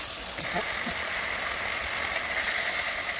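Ginger and cumin spice paste fries in a pan, a steady close hiss of sizzling with faint stirring scrapes, and no talk.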